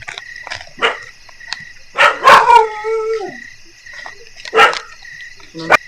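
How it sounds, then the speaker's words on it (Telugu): A dog barks several times in short bursts, with one stronger yelping cluster in the middle, over a steady chirring of night insects and crickets in a quiet outdoor setting. "మీ కుక్క అరుస్తుంది."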